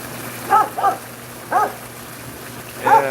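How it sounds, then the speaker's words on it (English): A dog named Kilo barks several times outdoors in snowy weather, with short sharp yelps in a loose pattern, moderately close against a steady background hiss. "Crazy dog."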